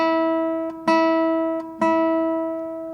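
A classical guitar string is plucked with the fingernail held flatter against it, close and clean. Soft and firmer attacks alternate, with four or five plucks across the span, each leaving a warm ringing tone.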